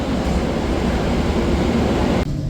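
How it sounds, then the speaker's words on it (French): London Underground metro train running at a steady loud roar with rumbling low rumble throughout, the noise dropping away abruptly near the end. "on est de retour dans le métro"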